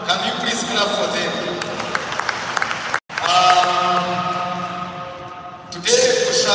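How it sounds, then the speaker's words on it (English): A church congregation claps during a service, a dense spread of applause that fills the room under a speaking voice, stops abruptly, then gives way to sustained tones and fresh noise. "Can you please clap for them?"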